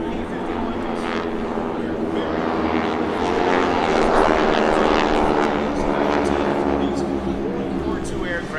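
A North American SNJ / AT-6 Harvard propeller trainer flies at an airshow, its radial engine making a loud, continuous droning roar that swells slightly as it passes.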